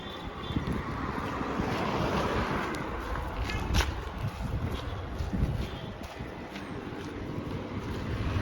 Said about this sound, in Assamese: ঠাণ্ডা বতাহ মাৰিছে, দিছে নাই?